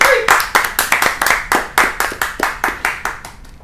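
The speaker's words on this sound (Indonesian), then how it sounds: "Tepuk tangan dulu." A live audience claps in a steady, rhythmic beat of about a dozen sharp hand-claps, loud and close, with a brief voice at the very start.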